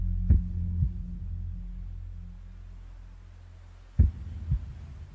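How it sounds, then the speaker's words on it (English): A heartbeat sound effect added to a song, two deep low thumping double beats spaced a few seconds apart, each a strong thud followed by a softer one, over a quiet sustained hum. "You can hear the heartbeat."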